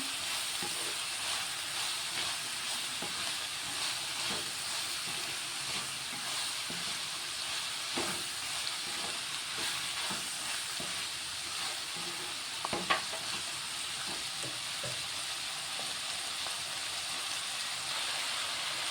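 Chana dal and cabbage being stirred together in a hot pan, a steady frying sizzle and hiss with soft intermittent scrapes of the spoon, close and continuous with no talking.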